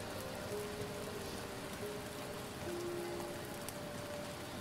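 Rain pours through a cold, stormy night in a quaint village in a video game, a constant broad patter with faint, thin tones drifting underneath and no voices.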